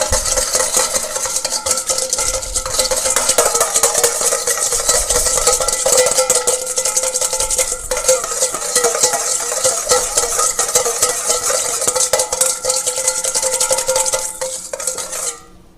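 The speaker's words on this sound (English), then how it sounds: "I'm just going to whisk this up" A whisk beats a small amount of homemade citrus vinaigrette salad dressing in a bowl. It makes quick, steady metallic clinks and scrapes that run almost continuously, close and fairly loud, before stopping abruptly at the end.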